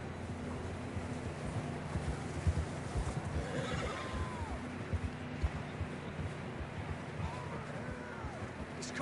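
Horses whinny and snort over steady wind in the video game Red Dead Redemption 2, with the soft clip-clop of hooves moving along underneath.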